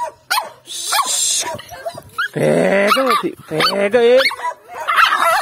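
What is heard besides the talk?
dog barking during guard dog training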